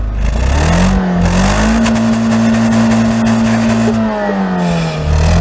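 The engine of a car with a damaged engine revs hard to full throttle, its loud droning note rising, holding a strained high pitch for several seconds, then dropping back toward idle, close by.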